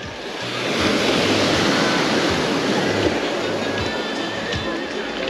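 Sea surf washing onto a pebble beach at Lazarevskoye on a grey August day, a steady broadband roar of breaking waves with wind noise, continuous and fairly loud, no voices.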